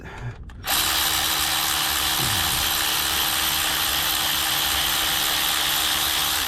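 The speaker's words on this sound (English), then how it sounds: "let's just tighten everything" Steady loud mechanical whir of a power tool tightening bolts during a head gasket repair on a 2006 Toyota Camry Solara, starting abruptly and running continuously, close up.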